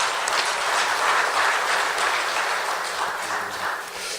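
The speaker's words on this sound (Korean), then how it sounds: "큰 박수 함께 부탁드립니다" Dense, loud applause from an audience of company CEOs at an early-morning business forum, a continuous wash of many hands clapping that holds steady throughout.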